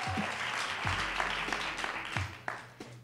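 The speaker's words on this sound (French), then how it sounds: "On peut s'applaudir." Audience applauding at the 2017 European Championship of slam poetry after a performance, a moderate burst of clapping with low hum and a few thumps, thinning toward the end.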